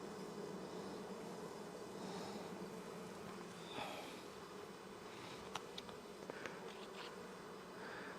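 Honeybees buzzing around an open hive in early fall, a steady low drone near and constant, with a few faint clicks of handling equipment.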